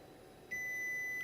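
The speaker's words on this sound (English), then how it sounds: "We get the beep." A steady electronic calibration beep from an ODrive Micro X4 motor controller starts partway in and holds as a single sustained tone over a quiet background hum.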